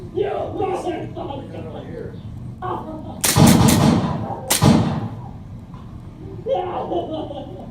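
Gunshots in a shooting video game: two loud, sharp booming shots about a second apart, heard under ongoing casual talk and some chuckling.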